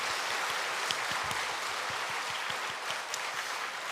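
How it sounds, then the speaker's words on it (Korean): Church congregation clapping together during a Sunday afternoon worship service, a steady hiss of many hands with rhythmic thumps, moderately loud throughout. "우리 먼저 하나님께 영광의 박수 올려드리겠습니다"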